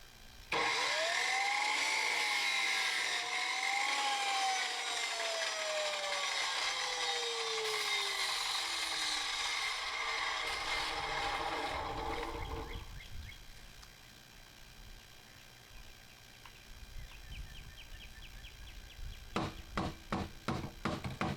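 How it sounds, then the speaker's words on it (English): A power saw cuts 1 inch PVC pipe up close with a whining pitch that rises and dips for about twelve seconds, then gives way to quieter rattling and clattering of the pipe being handled. "Now we're going to cut this 1 inch PVC to finish out that drain."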